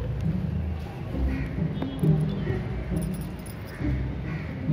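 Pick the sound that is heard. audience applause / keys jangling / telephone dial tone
keys jangling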